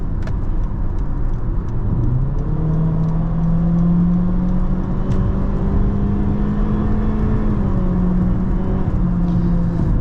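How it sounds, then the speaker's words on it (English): Steady, loud road rumble from inside a moving 2023 Honda HR-V with a 2.0 naturally aspirated engine, with a low engine drone rising slightly in pitch and no voices. "the road noise is very bad in this HR-V."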